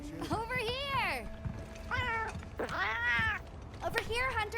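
Cats meowing in the video game Monster Hunter Wilds, several close, drawn-out meows in quick succession with a few short chirps between them, over a quiet background hum.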